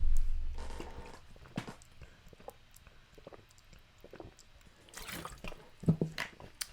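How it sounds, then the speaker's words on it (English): Someone takes a sip of water, with soft close slurping and a faint swallow after a stretch of near silence. "I'm gonna take a sip of water"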